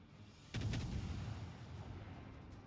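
Naval guns of a Tier 10 German destroyer, the Z-52, fire in World of Warships, with a sudden loud booming salvo followed by a sustained, rolling low rumble that slowly fades.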